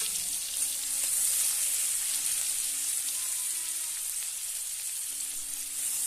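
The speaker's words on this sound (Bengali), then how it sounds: "প্রথমে দিয়ে দিচ্ছি পেঁয়াজ বাটা," Onion paste sizzles steadily in hot oil at the start of an egg and potato kofta curry, a continuous bright frying hiss that stays even and close with no talking over it.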